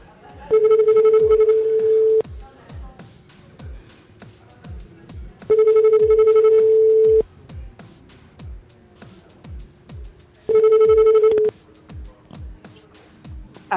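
A landline telephone rings through a call placed live on a Tropical Night Live Tour radio show broadcast from a brasserie, three long repeated rings separated by pauses, loud and clear, with a faint hum underneath.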